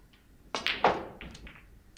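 At a snooker championship table, the cue ball clips the pack with a short sharp click, followed by several lighter knocks as the balls scatter briefly.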